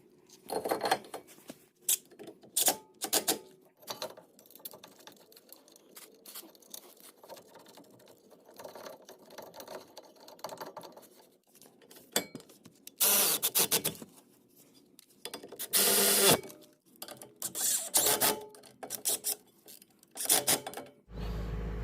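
Intermittent bursts of ratchet clicking and metallic clatter while working the lower strut and caliper bracket nuts and bolts on a Suzuki Sidekick, coming in short irregular spurts between quiet pauses in a garage.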